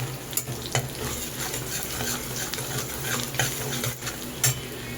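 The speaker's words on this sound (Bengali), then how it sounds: "একই সাথে যে রসুনগুলোকে কুচিয়ে রেখেছিলাম আমি সেই রসুনগুলো তেলের মধ্যে দিয়ে দেব।" Chopped garlic and whole spices sizzle steadily in hot oil, with a constant close frying hiss and occasional clinks of a spoon stirring against the pan.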